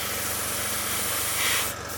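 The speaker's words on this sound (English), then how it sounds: "with the signature airbrush, I've loaded it with some light primer" A 0.3mm signature premium SG-100 airbrush spraying light primer, a steady soft airy hiss that swells briefly louder near the end before easing back.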